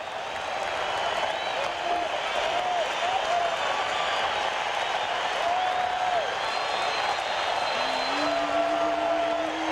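A packed ballpark crowd of over 34,000 in Anaheim, fans on their feet, sends up a steady, dense roar of cheering and clapping during a tense late-inning 1995 pennant race game, with a commentator's voice faintly present.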